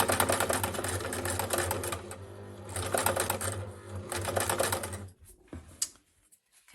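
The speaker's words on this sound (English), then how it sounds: "we're going to sew all the way round but stop about here." A sewing machine stitches around a small heart made from scrap fabric, running in steady close bursts with brief dips in speed, then stopping near the end and leaving quiet handling noises.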